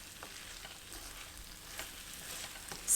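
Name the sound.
stirring pepper paste filling frying in pan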